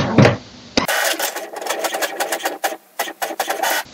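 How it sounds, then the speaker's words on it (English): An HP Smart Tank printer runs an information report, its motor and print head starting with a click, then whirring and chattering in rapid, uneven bursts, close and loud. "This will print the printer information report"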